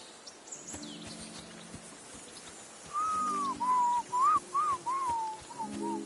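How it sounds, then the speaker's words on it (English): A character in the video game Kingdom Come: Deliverance II whistles a short wavering tune of several clear notes, close and steady, while soft low tones and faint ambient sounds play underneath. "Your whistling is getting on my fucking nerves the whole way."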